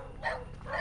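Dogs barking in short bursts at a distance, two or three yelps rising over a low steady hum of night ambience.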